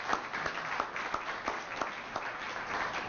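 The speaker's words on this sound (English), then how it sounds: "let's give him a big round of applause," An audience at a staff development certification awards event claps, with individual hand claps standing out in a steady rhythm over a continuous wash of applause.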